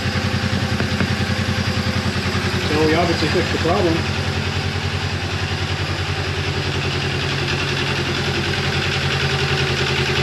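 A Polaris RZR 900 engine idles steadily after a valve adjustment, a close, even mechanical drone running throughout while someone talks over part of it.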